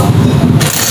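A motorcycle with a faulty clutch runs loud and close, its engine rumbling roughly for about a second, with a brief shift in tone partway through.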